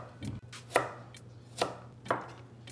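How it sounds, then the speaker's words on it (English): A knife chops scallions and a carrot on a cutting board, several sharp, separate cuts at an uneven pace, close and fairly quiet, with no talk. "we're going to chop up these scallions and 1 carrot for the rice"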